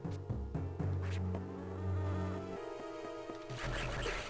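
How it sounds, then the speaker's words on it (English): Swarm of bees buzzing in the Metroid Fusion video game, a steady droning hum under game music with repeated tones, continuous for several seconds without speech. "I'd like to get past these bees"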